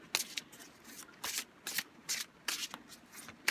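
Tarot cards being shuffled by hand in short riffling bursts, about six quick crisp flurries separated by brief pauses, close and clear with no talking.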